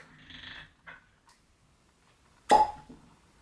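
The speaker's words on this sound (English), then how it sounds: "Let's pull the cork." A cork is pulled from a bottle of Macaloney's Moscatel whisky at 55% strength, giving one sharp, close pop followed by a brief squeak, with small handling noises before it.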